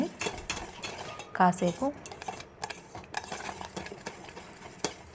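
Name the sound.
stirring fruit custard mixture in a bowl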